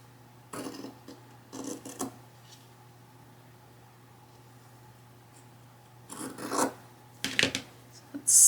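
Scissors slice through Fabrica fabric from Hobby Lobby into 2-inch strips, giving a few short rasping cutting bursts that are close and fairly loud, separated by quiet pauses, with no talking.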